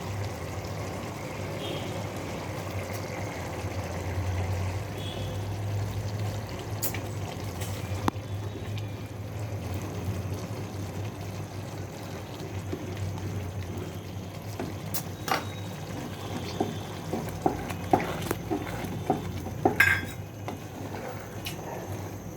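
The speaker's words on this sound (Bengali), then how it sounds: "এই গুলানো ডিমটা আমি ওর মধ্যে দিয়ে দেবো আস্তে আস্তে করে" Beaten eggs going into a pot of cooking khichuri and being stirred, with low bubbling, clinks of a spoon against the pot and scattered scrapes building near the end, no voices.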